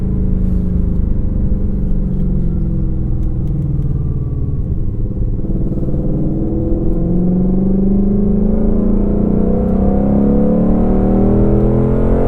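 A 2021 Ford Mustang Shelby GT500 runs with its exhaust in track mode, a loud, close engine and exhaust roar that holds a deep rumble while the pitch sweeps upward as it accelerates.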